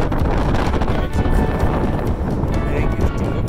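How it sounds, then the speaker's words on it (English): Strong, steady wind gusting around 50 mph on an alpine mountain ridge buffets the microphone with dense low rumble throughout, loud and continuous with only slight dips between gusts. "This is like 50 mile an hour gusts."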